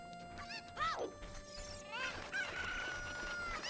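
A chicken from the video game Zelda: Ocarina of Time, played in a randomizer tournament, squawks and crows in a couple of sharp bursts among steady game sounds, with no talk over it.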